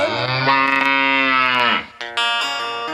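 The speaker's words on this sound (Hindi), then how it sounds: "गाय सिलार मारने जा रही है" A cow moos loudly and close, one long drawn-out call, then a shorter, wavering second moo.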